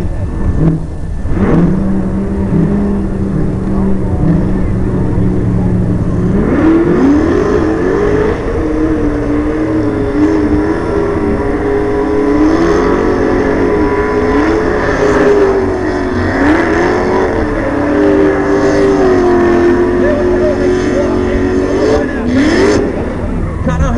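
Cars do burnouts at a car show, engines revving hard and wailing with rising and falling pitch over a loud, continuous roar, with a crowd and an announcer's voice mixed in.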